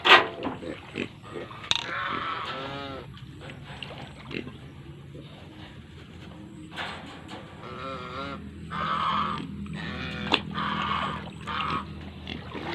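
Native pigs grunt in a flooded pen with a pregnant sow among them. Low, close grunts and snorts repeat irregularly over a continuous murmur of background noise.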